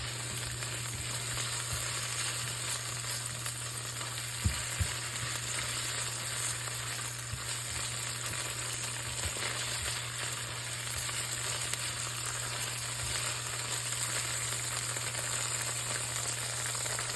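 Tomato paste sizzling steadily in a pan as water saved from cooking fish is added, a constant dense frying hiss with a couple of brief knocks, close and unbroken, with a steady electrical hum underneath.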